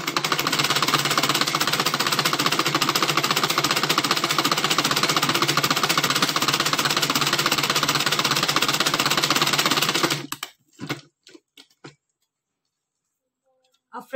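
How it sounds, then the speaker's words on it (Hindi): A sewing machine stitches a blouse cuff for a balloon-sleeve blouse, running in one steady, loud, dense whir for about ten seconds, then stopping, followed by a few faint clicks and handling noises. "अब हम इसके ऊपर सिलाई करके दिखाते हैं।"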